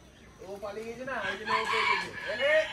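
A rooster crows close by, a long rising and falling call repeated over a few seconds, with other fowl noises in the background.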